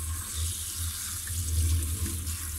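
Steady rush of tap water running at a sink while lettuce leaves are washed one by one, a continuous close wash with no talk.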